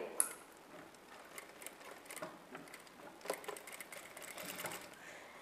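A sewing machine runs in quick, light bursts while stitching the neckline of a work blouse with lining, a faint rapid patter of needle ticks that starts and stops with nothing else in the background.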